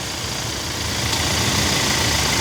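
A 2025 Toyota Fortuner LTD, a 201-horsepower SUV, idles with a steady, continuous engine rumble heard up close, with no talking over it.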